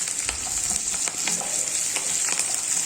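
Curry leaves, onions and chillies fry in hot oil for a puliogare tempering, giving a steady close sizzle broken by repeated scraping stirs, with no voices.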